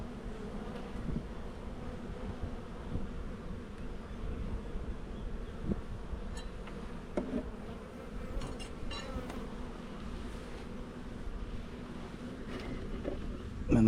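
Honey bees buzz in a dense, steady drone close by while a beekeeper works an open hive, the swarm sound holding level throughout with small bumps and knocks.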